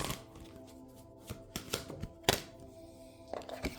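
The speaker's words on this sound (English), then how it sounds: "Let's pull some cards." Tarot cards being shuffled and pulled, giving soft papery slaps and flicks at irregular moments over a low, steady tonal background, fairly quiet and close.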